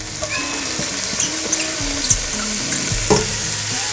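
Chopped broccoli rabe with garlic sizzles loudly in a hot pan while being stirred, with steady frying hiss and repeated scraping strokes.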